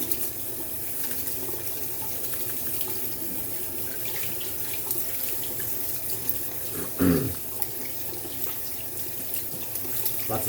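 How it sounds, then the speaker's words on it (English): Tap water runs steadily into a sink while a shaving brush is rinsed out, a constant close splashing rush with one brief gurgle partway through and no voices. "I rinse out my brush while this is soaking in"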